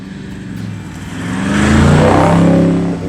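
Toyota 76 Series LandCruiser fitted with a twin 3-inch Redback exhaust, revving up into a loud, swelling throaty roar that peaks and holds before easing slightly, close by with no talking.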